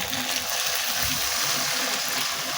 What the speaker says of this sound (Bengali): আমি এর মধ্যে দিয়ে দেবো পরিমাণ মতো জল